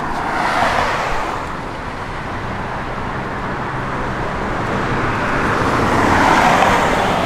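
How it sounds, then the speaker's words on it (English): A 1971 Chevrolet C10 engine with an aggressive camshaft runs steadily, its broad rumble mixed with wide outdoor noise and nothing rising above a constant, fairly loud drone. "Nasty camshaft in this thing. It's got a great sound."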